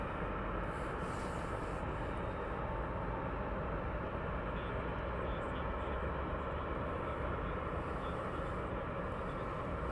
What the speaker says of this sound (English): So this is Start Air taxiing off.